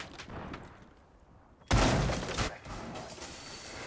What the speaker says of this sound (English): That's the explosion coming through from the Blue Jays.